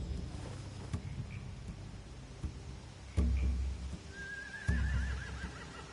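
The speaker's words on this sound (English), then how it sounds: "They have horses." Horses in The Walking Dead: The Final Season video game shift about, with thuds and hoof shuffles before a drawn-out whinny near the end, all fairly faint and without talk.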